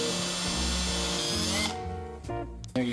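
A power drill bores a pilot hole into the keel of a 1956 Century Resorter wooden boat, a loud close whine for about a second and a half, then winding down with brief spurts and a final short burst.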